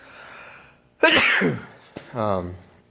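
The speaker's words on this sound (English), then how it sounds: "I gotta sneeze." A single loud, close sneeze bursts out after a brief spoken line, followed by a short breath and a few more words.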